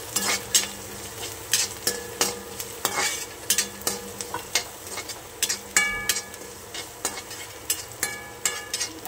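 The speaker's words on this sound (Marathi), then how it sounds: "कांदे टाकून, हिरव्या मिरच्या आणि कढीपत्ता टाकून ठेवलेला आहे आणि मिक्स करून घेत आहे" Onions, green chillies and curry leaves sizzle in hot oil for poha while a utensil stirs and scrapes the pan in quick repeated strokes, close and fairly loud, with no talking.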